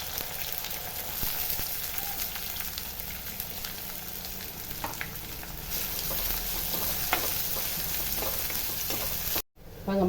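Onions sauté in a pan for a Tamil fish kulambu, a steady close sizzle with occasional scraping stirs, running continuously before a brief drop-out near the end.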